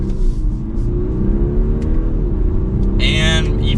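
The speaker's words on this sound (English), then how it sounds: "And even with the smaller engine, it still has plenty of get up." A 2023 Audi A5 Sportback S Line 45 with its smaller engine accelerates in dynamic mode under manual shifting, the engine droning and climbing steadily from inside the cabin, with a brief higher whine near the end.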